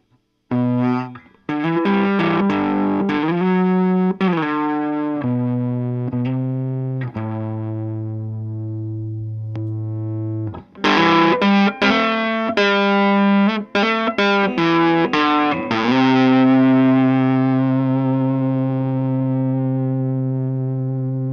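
Overdriven electric guitar through an amp pedal plays chords and single-note phrases with gritty distortion, a sustained low note in the middle, loud and close, no talking.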